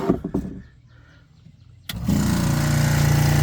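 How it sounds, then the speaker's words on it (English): Quarter-horsepower pond pump with a cooling fan in its container switching on: a few knocks and quiet, then a sudden start into a loud, steady motor hum and whir that continues to the end. "So I got a cooling fan in this container with the pump. It's a 1/4 horsepower pump."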